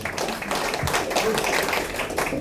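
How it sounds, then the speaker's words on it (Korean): Audience applause at a Korean security forum Q&A on GSOMIA and the US alliance, a dense steady patter of many hands clapping with some murmuring voices mixed in. "박수 한번 치죠."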